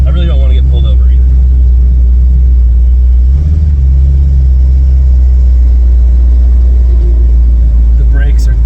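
A Land Rover Defender 110 with an LS3 V8 drives on a road, its low engine rumble and road noise steady and close throughout, with brief louder surges midway.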